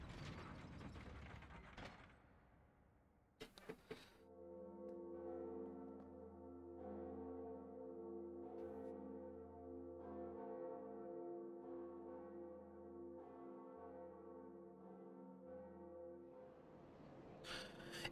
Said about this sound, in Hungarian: És mind a kettő elkezdett harangozni